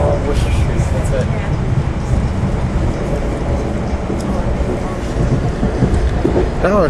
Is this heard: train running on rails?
yes